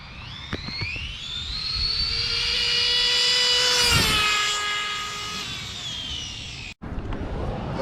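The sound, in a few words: Arrma Kraton RC car speed pass on 6s graphene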